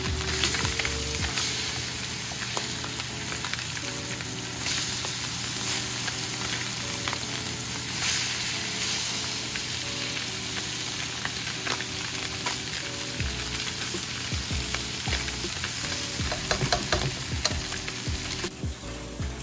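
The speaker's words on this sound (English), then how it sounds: "while it's cooking on the other side" Fish fries in butter in a hot pan, giving a loud, continuous close-up sizzle with crackles and spatters for the whole stretch. A faint steady hum sits underneath, and no one talks.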